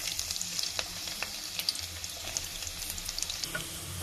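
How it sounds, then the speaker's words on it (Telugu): Garlic sizzles in ghee and sauces in a pan, a steady crackling fry with scattered sharp pops and spits, close and moderately loud, with no voices. "ఇప్పుడు తెల్లగడ్డ బాగా వేగిపోయింది"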